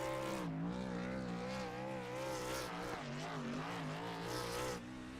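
A race truck at Talladega Speedway spins in circles doing a burnout, its engine droning steadily with wavering pitch as tires squeal continuously.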